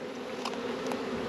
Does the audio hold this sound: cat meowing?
no